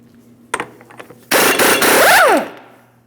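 After a couple of sharp clicks, an impact wrench removing a 32mm axle nut on a 2005-2010 Chrysler 300 bursts into a loud rattling buzz for about a second, its whine sweeping down as it stops.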